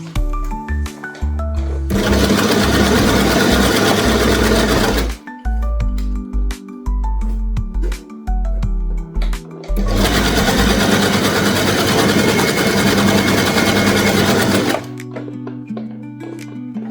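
Sewing machine stitching fabric plaster onto a base for an autogele headtie, running in two long continuous bursts of rapid buzzing needle clatter with quiet handling clicks and pauses between, close and loud.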